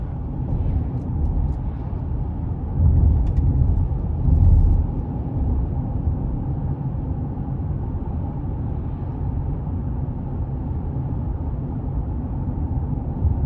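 A 2021 GMC Canyon Elevation pickup with a 3.6-liter engine and two-wheel drive cruises along a back road at about 46 mph, giving a steady low engine and road rumble that swells briefly before settling into an even drone.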